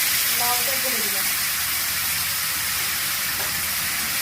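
Chopped bottle gourd goes into a hot pan of spiced oil and sizzles in a loud, steady hiss, with a brief voice near the start.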